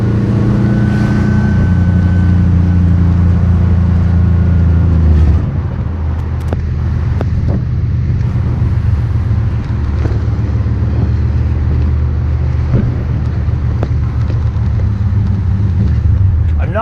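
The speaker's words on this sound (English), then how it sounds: "step on it pretty hard in first gear right now. As you can see, it has plenty of power and moves pretty good." A 1962 Corvette accelerating hard in first gear, the engine note loud and rising, then easing to a steady rumble with road noise, with someone speaking over it.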